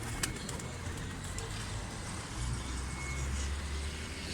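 Low, soft pigeon coos repeat in the background from a rooftop platform on a shanty house, over steady outdoor ambience with distant traffic rumble.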